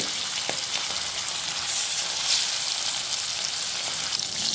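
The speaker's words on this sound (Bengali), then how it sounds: "বাকি মাছগুলো ঠিক একইভাবে এরকম হালকা লাল করে ভেজে নিচ্ছি" Fish pieces shallow-frying in hot oil, fried to a light reddish colour: a continuous close hiss of sizzling oil, steady and even throughout, with faint occasional clicks and no voices.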